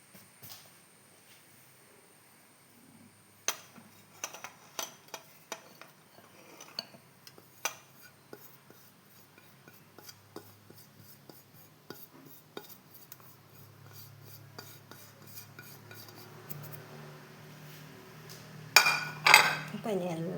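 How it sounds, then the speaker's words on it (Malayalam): A spoon works through pineapple cake batter in a bowl, making irregular clinks and taps against the bowl with soft mixing sounds between them. The sounds grow busier and louder toward the end, in a quiet room. "അപ്പം ഇനിയെല്ലാം നമുക്ക് ഒന്ന് ഇളക്കി യോജിപ്പിക്കാം"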